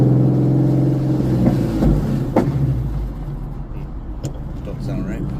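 A 2014 Ford Mustang with a 3.7-liter engine and modified exhaust drives along, its steady low engine drone loud and continuous with a few brief clicks and knocks over it.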